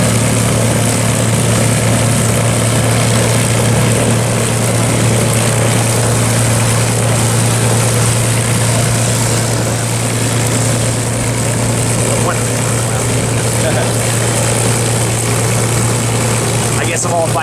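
A P-51 fighter plane's propeller engine drones steadily and loudly throughout, a constant low mechanical hum with voices faintly present in the background.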